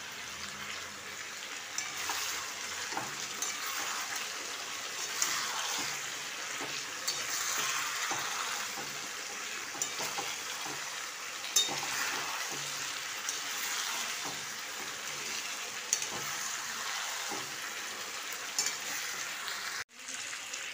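Garlic and ginger sizzle steadily in a pan over high heat, a continuous close frying hiss with occasional scraping stir sounds.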